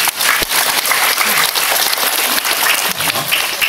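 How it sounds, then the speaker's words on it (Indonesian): Crowd at the Bali Arts Festival applauding, a loud, dense and continuous wash of clapping from many hands, close and unbroken for the whole stretch. "tepuk tangan"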